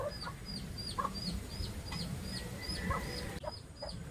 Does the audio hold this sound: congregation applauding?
no